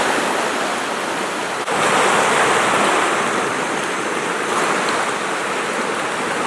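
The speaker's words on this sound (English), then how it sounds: "You should be able to see the water starting to gush out over there." Water from drained water lines at a tiny house gushes and bubbles downhill under gravity, a steady, loud, continuous rushing flow with faint wind noise and no talking.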